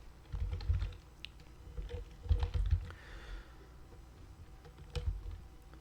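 Typing an author name on a computer keyboard: three bursts of keystrokes come close and clear, with quieter pauses between them and no talking.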